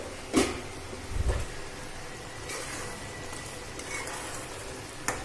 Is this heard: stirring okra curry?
yes